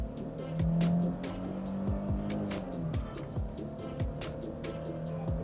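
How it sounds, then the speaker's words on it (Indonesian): A 2005 Mercedes-Benz W220 S350 S-Class accelerates hard on an empty road, its engine note climbing again and again through the gears in a loud, steady run with no talk. "Sekarang depan gue ada jalan kosong, gue akan tes tenaga mobil ini."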